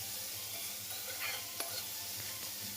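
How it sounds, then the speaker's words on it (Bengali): Vegetables fry in a little oil with turmeric, giving a steady, close sizzle with a few soft stirring scrapes and one brief clink, with no talking. "সবজিটা ভাজা বসিয়ে দিয়েছি সামান্য পরিমাণে হলুদ গুঁড়ো দিয়ে।"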